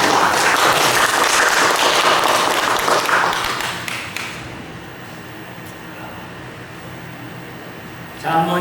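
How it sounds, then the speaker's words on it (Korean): A church congregation claps together for about four seconds, loud and dense, then the applause fades into a quiet room hum. "박수 한번 칩시다."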